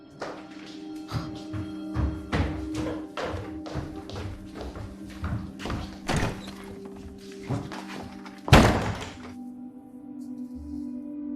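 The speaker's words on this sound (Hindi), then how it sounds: "दरवाजा लॉक क्यों कर दिया?" A door slams hard in a Hindi-dubbed Korean drama, one heavy bang following a series of dull knocks and thuds, with a faint hum behind and no talk.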